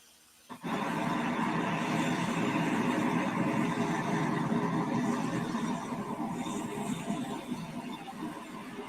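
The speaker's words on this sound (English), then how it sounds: "Traffic driving by." Steady traffic noise starts abruptly and continues as a broad, continuous rush of passing vehicles, fairly loud and unbroken, with no horns or voices.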